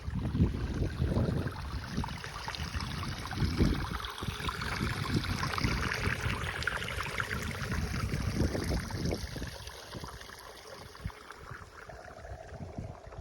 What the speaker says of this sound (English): A little stream that goes right through here.